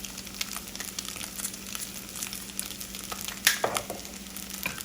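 Bacon fried rice sizzles in bacon butter in a pan, a steady low crackle with occasional sharper spatters and a brief louder burst of stirring near the end.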